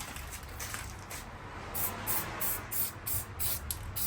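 Satin black industrial paint hisses from an aerosol can in several short bursts, close and steady, while brake parts on a Volkswagen Caddy are coated.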